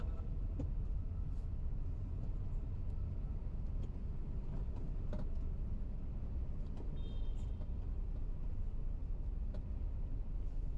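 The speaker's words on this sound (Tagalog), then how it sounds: "Yan na, traffic na sa baba." Road traffic on a street below, a steady low rumble of cars and heavier vehicles with a faint brief squeal partway through, heard from above at a distance.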